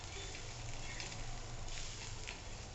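Fresh pigeon peas roast in a pan with a dense, steady crackling and pattering hiss, fairly close and constant, with no talking.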